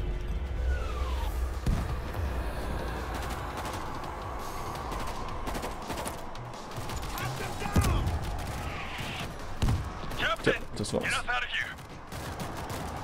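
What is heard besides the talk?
gunfire from video game World War Z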